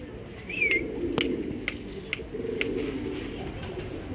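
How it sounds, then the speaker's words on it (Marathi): Pigeons coo softly in a low, repeated murmur, with a brief chirp early on and several sharp clicks or taps in between. "सगळ्यात लास्टचं कबूतर बसलेलं आहे"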